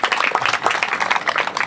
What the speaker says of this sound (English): let's have a nice round of applause for Mayor Castex Tatum